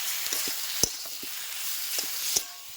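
Potatoes and eggplant sizzle and crackle in hot spiced oil during stir-frying, a steady hiss broken by a few sharp pops and scrapes, close and moderately loud, with no voices.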